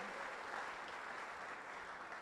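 An orientation audience applauds, a dense, even wash of clapping hands sustained throughout at moderate distance.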